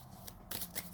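Tarot cards shuffle fast and close, the deck riffling in a short burst of papery flutters that builds to a louder snap at the end, with no talking.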